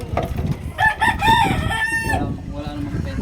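Fighting roosters on a third-floor house rooftop crow loudly and close, one long cock-a-doodle-doo rising over a mix of clucks and rustling.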